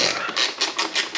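Quick bursts of metallic ratcheting repeat in a steady rhythm, a wrench clicking as it works a tight exhaust bolt loose on a Kawasaki ZX-10R motorcycle, close and fairly loud.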